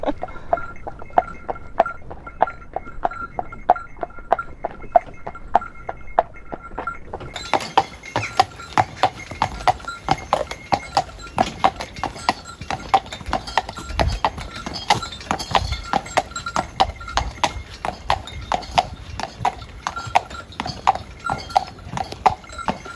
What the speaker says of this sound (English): There's not that many horses that would tolerate that sort of thing.